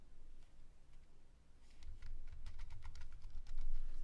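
Password typed on a computer keyboard, a quick run of close, crisp key clicks that get busier toward the end over a low hum.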